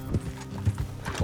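Quick, close clip-clop of horse hooves in Red Dead Redemption 2, several sharp hits at an uneven walking pace, clean and game-like.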